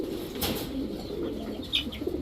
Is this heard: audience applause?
no